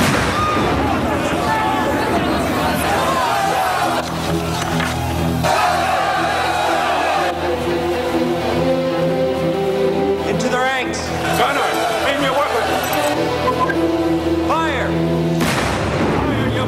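Cannon fire and battle commotion from a historical battle film, heavy booms and blasts amid a shouting crowd and voices calling orders, dense and loud throughout.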